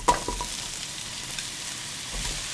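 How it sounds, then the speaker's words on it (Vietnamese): Shallots and minced garlic, a teaspoon of each, sizzle in oil in a frying pan, a close, steady crackling hiss with a few sharper spatters and stirring sounds, no voices. "Cho vào chảo một ít dầu, cho hành tím nè, tỏi băm, mỗi thứ một muỗng cà phê. Phi lên cho thơm."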